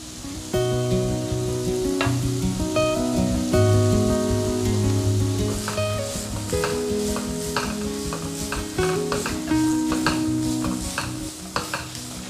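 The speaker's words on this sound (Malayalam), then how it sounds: "പച്ചക്കറികളൊന്നും തന്നെ ഓവറായിട്ട് കുക്കാവേണ്ട ആവശ്യമില്ല. ജസ്റ്റ് ഒന്ന് സോട്ട് ചെയ്തെടുത്താൽ മതിയാകും." Chopped cabbage and capsicum sauté in a hot pan, with a continuous close sizzle broken by repeated scraping stirs of a spatula, heard alone with no voices.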